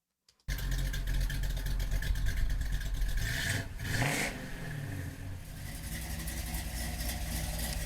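A Pontiac GTO muscle car engine starts with a sudden loud rumble, then revs up in a rising surge, drops back, and settles into a deep, steady idle, heard close with no one talking.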